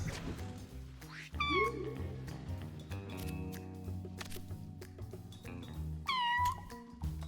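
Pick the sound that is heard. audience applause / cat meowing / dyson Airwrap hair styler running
cat meowing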